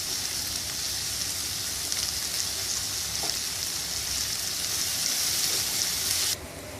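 Sliced onions sizzle and fry steadily in hot oil for a squid biryani masala, a loud, close hiss that runs unbroken before dropping suddenly near the end, with no voices.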